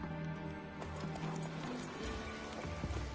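Roach, a horse in The Witcher 3, gallops with steady rapid clip-clop hoofbeats over a continuous game music bed, moderately loud throughout.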